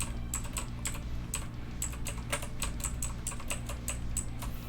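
A computer keyboard is tapped in a quick series of about a dozen crisp, close key presses at an uneven rhythm over a low steady hum, with no talking, while playing the game My Hero Academia: The Strongest Hero.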